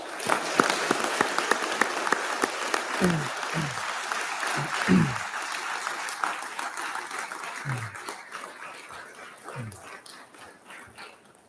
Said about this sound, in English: Please join me in giving Milton's heroes a well-deserved round of applause.